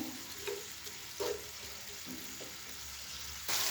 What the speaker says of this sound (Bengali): এখন এখানে মিক্সড করে দিয়ে ঢেকে তারপরে কিন্তু দমে একটু কষিয়ে নিতে হবে